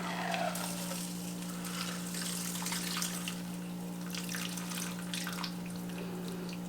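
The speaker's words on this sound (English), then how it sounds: "we're going to do a double strain to get rid of any ice shards that might be in the shaker." Cocktail double strained from a shaker into a glass, a steady faint trickle of liquid pouring alone over a low background hum.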